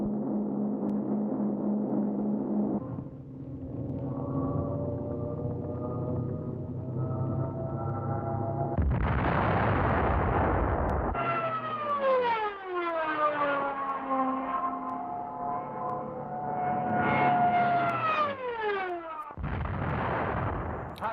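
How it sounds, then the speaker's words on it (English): Stuka dive bombers attack enemy artillery in a wartime combat scene: loud wailing siren tones rise and fall continuously, with dense rumbling bursts of fire and explosions underneath and no voices. "Stukas are engaged against the enemy artillery and identified tank assembly areas."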